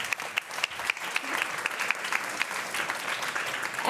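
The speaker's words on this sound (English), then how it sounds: "Give them a round of applause, please, ladies and gentlemen" Audience applause at an arts talk event, a steady moderate wash of clapping with distinct individual claps popping through, fairly close and without speech.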